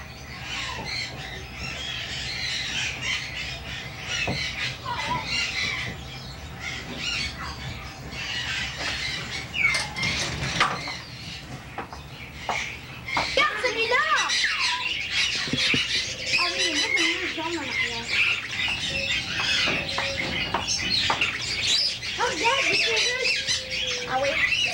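Birds in a pet shop squawk and chirp in a busy, continuous chorus, with harsh squawks and sharp calls that grow louder partway through. Voices talk intermittently under the noise.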